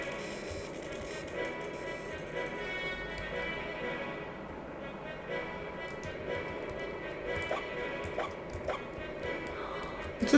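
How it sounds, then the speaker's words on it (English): Game dog from Xenogears yips and whimpers in short bursts, with a few soft barks over a steady layer of background music and light tapping. "It's a doggy!"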